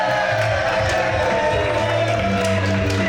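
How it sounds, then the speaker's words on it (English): Crowd cheering and whooping at a live wrestling event, a steady loud roar of many voices filling the hall with scattered shouts rising over it. "The crowd are loving this early on"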